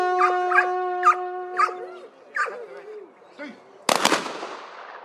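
Hunters fire a gunshot skyward to signal the start of the 2016 international bograch cooking championship in Transcarpathia; one loud, sharp crack with a ringing decay comes near the end, after several nearby dog barks.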